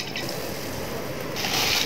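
Water pours steadily into a cooking pot, about two and a half litres for boiling lentils, making a continuous close splashing rush that grows brighter and louder near the end.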